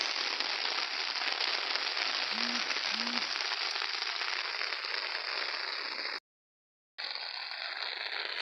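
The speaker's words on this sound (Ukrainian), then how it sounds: "Ще зараз все зелене, а дощ падає." Autumn rain falls on a vegetable garden, a steady close broadband hiss with no voices. It holds nearly constant, drops out briefly to silence, then resumes.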